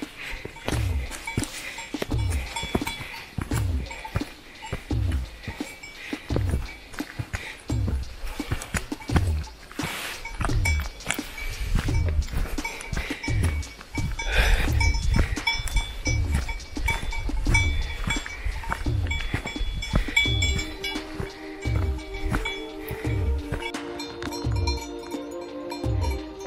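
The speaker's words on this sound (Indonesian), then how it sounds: "Ada kambing lagi di sini." Goats on a rocky mountain hiking trail in South Tyrol, with repeated soft thuds of hooves or footsteps in an uneven rhythm and scattered bell-like tinkling and bleats nearby, no talking.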